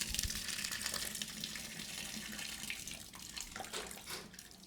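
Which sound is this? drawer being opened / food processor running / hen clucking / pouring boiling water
pouring boiling water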